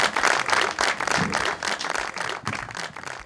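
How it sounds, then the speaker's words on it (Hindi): Audience applause for a singer on a singing competition show, brisk, energetic clapping in uneven surges from a nearby crowd, with a little background voice mixed in. "अरबाज के लिए फिर से तालियां"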